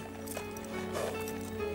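Horses set off with riders in an animated adventure series, hooves clip-clopping in a few soft irregular beats under a steady background score, fairly faint and brief.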